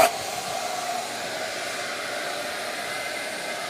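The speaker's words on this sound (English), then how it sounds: "This is Shaper Origin, and it is a handheld CNC router." Shaper Origin handheld CNC router cutting with its dust vacuum running, a continuous loud high-pitched whine and airy rush that holds steady without pause after a brief onset.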